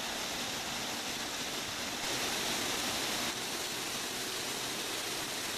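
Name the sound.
stream falling into a lake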